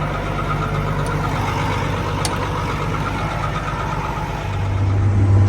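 A tractor engine pulling a field cultivator runs at a steady low drone up close, holding even and then swelling louder and deeper near the end as it revs.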